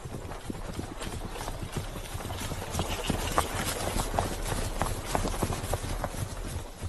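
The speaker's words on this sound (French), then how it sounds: "J'entends des pas de chevaux." Horse hooves clip-clopping in a steady rhythm, moderately close, over a low background rumble.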